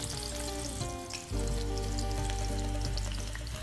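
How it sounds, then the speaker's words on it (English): Shallots dropped into hot oil, a dense continuous sizzle and crackle close up that swells louder as the pieces hit the pan and keeps frying steadily. "So my oil is hot. I'm going to plop our shallots in."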